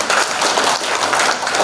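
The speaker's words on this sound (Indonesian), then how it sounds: "pertama beri tepuk tangan dulu untuk narasumber kita" A brief burst of audience clapping for the guest speaker at an Indonesian seminar, dense and fairly loud, filling the whole moment without voices.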